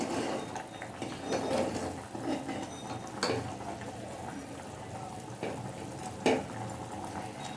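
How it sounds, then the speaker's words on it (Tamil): Thick beetroot jam bubbles and simmers steadily in a pan, with a few soft pops and clicks scattered throughout. "இது கொஞ்ச நேரம் கொதிக்கட்டும்"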